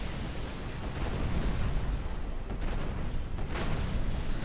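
Rockets fire and explode in Armored Core: For Answer, producing a dense, continuous barrage of booming blasts and rumbling detonations, with a few sharper bursts standing out near the end.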